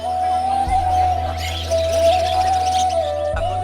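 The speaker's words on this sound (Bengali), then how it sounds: "খাঁচার ভিতরের এই কিচিরমিচির শুনে আমরা মনে করি পাখিরা আমাদের হয়তো গান শোনাচ্ছে" Caged birds at a large bird market in Dhaka give a sustained whistling call with faint chirps above a low steady hum.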